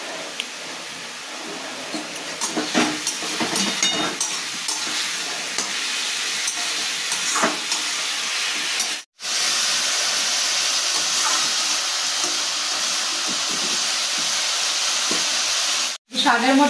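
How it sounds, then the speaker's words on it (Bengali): Leafy greens (shak) frying in a pan with slit green chillies, a continuous close sizzle and hiss with scraping stirs, broken by two brief silent cuts; a voice talks faintly now and then. "শাকটা আমার ভাজা ভাজা হয়ে এসছে।"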